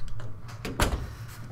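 A door opens in the horror video game The Crooked Man: a few soft creaks and clicks, then a louder thud or latch sound, heard close with faint background hum and no speech.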